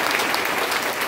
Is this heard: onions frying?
no